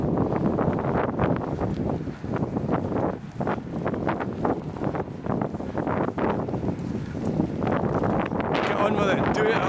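Steady wind buffeting the microphone on a hilltop walk, a loud, continuous roar and rumble with gusty rustling throughout, under occasional breath and movement.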